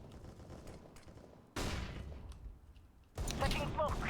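Two bursts of rapid video game gunfire go off close and loud, each a dense crackling volley, set against quieter background game noise and some talk.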